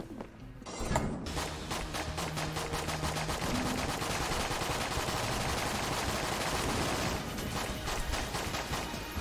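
Rapid, steady automatic fire from the Patriot gun in the video game Enter the Gungeon, a dense unbroken stream of shots lasting several seconds over game sounds.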